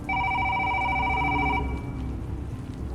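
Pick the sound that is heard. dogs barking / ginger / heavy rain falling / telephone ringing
telephone ringing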